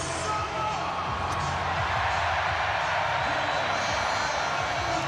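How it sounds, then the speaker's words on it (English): A stadium crowd roars at the rugby league World Cup final between Australia and Samoa, a dense, steady wall of noise filling the whole clip. "Crowd whipped into a frenzy"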